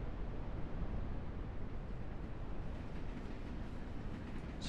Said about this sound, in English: Let's wait for the train.